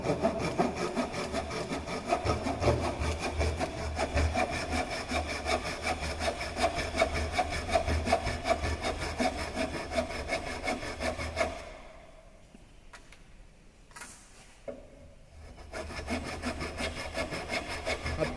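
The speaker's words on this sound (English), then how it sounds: "Up to 11 mm mark, we can do the cutting operation with help of the tenon saw." A tenon saw cuts wood for a T-lap joint in fast, even rasping strokes, loud and close, then stops for a few seconds before the strokes start again.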